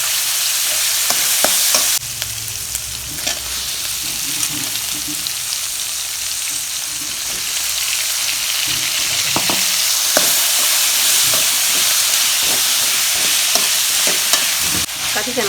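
Brinjal and tomato sautéing on low heat for a tamarind curry, a soft continuous sizzle broken by clinking, scraping stirs of a spoon against the pan, no voices.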